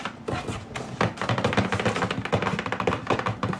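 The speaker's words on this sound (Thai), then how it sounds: "เวลาเขาแกะกล่องเขาจะเอาเล็บเคาะเคาะอย่างนั้นอะ" Fingernails tap rapidly and continuously on a package box, a busy close-up clatter of light clicks with no talking.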